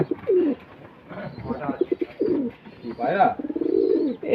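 A pet pigeon coos close by in several throaty, rolling calls with short pauses between them, loud and clear.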